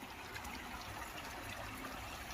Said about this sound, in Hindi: अभी आप लोग जो साउंड सुन रहे हैं वो नेचुरल वाटर फ्लो का साउंड है।